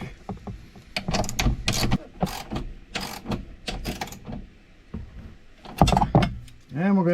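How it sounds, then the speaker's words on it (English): Bolts on a Highlifter 2-inch lift kit are tightened with quick metallic ratcheting clicks and clanks in irregular bursts, close by, with some tool handling between them. "let's get these bolts tightened up and continue on"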